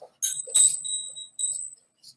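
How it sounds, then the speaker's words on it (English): Hand bells from Peru are rung during a meditation: several bright, tinkling jingles in quick clusters with short gaps between them, close and clear, with a faint final shake. "I'm going to use my bells. These are my bells from Peru."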